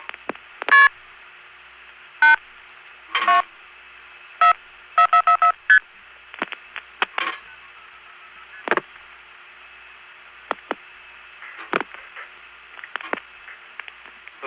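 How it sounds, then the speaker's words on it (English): Multi-frequency telephone dialing tones play from an NX1 test board in scattered short beeps and quick clusters, clear over a quiet hiss with longer gaps between bursts and no talking. "You notice the funny MFs? Like, I'm going to dial 824-4444."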